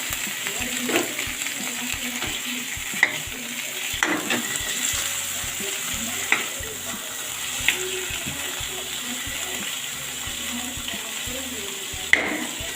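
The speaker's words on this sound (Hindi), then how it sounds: "फिर इसके बाद मैं खोए को भूनूंगी" Khoa roasts in a kadhai with a steady soft sizzle, broken by occasional scraping and tapping of a spoon against the pan.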